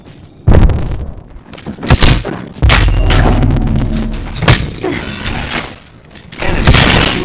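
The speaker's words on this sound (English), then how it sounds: "Look out, grenade!" Grenade explosion in the Apex Legends video game, heavy booming blasts among clanging impacts and gunfire in a loud, chaotic firefight.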